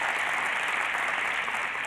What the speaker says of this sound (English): You're wasting my time by clapping.